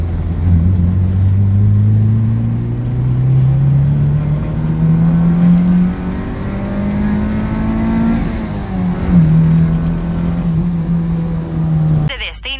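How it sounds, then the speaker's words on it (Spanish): A Daihatsu Charade car accelerates hard, its engine droning loud and close as the pitch climbs steadily, with short dips at the gear changes. "Vamos a ver la aceleración del Charade."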